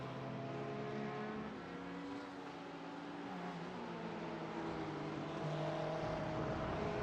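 Porsche race cars at Sebring in an AARS race, engines droning steadily at a distance, a sustained layered whine that rises and falls slightly as the cars run, with no voices over it.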